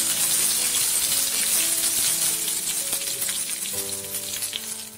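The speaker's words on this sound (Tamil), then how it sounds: "கடுகு பொரிஞ்ச உடனே கருவேப்பிலை போடணும்" Mustard seeds and curry leaves sizzle and crackle in hot oil in a kadai, a loud, continuous frying hiss, with faint sustained musical tones underneath.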